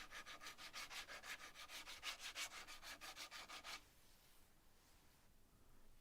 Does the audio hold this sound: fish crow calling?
no